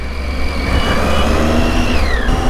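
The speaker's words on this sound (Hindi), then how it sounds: "बाइक में अभी चला रहा हूँ" A Triumph Tiger 800 motorcycle being ridden gives a loud, steady engine drone with rising and falling rev tones, close and continuous, mixed with road and wind noise.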